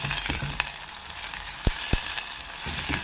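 Small onions fry in hot oil with crushed garlic and ginger, giving a close, steady sizzle broken by a few sharp ticks and stirring clinks, with no talking.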